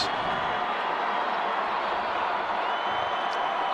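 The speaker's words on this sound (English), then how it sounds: "The crowd is loud." Football stadium crowd at a high school state championship game, a dense, continuous roar of cheering voices holding steady throughout.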